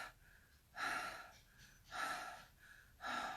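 A woman imitates shallow, panicked breathing: three quick, airy gasping breaths at regular intervals, close and quiet, with no words.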